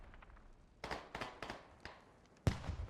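Artillery fire in a Fallujah firefight from a military shooter game: several sharp booming blasts at irregular intervals, the last one loudest and nearest, with a faint crackle between impacts.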